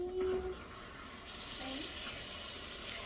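Water pours into an emptied tomato paste can while homemade pizza sauce is mixed, a steady faucet-like splashing that swells louder partway through and continues to the end.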